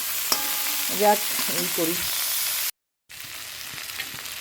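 Frying hiss from a pan, heard while someone stirs with a few brief scraping touches, then a short gap; someone speaks briefly over it.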